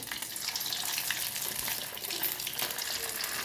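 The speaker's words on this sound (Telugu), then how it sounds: "ఇలానే మొత్తం డీప్ ఫ్రై చేసుకోవాలి" Soya chunks (meal maker) deep frying in hot oil for manchurian, a steady broadband sizzle and crackle running throughout at moderate level, with no voices.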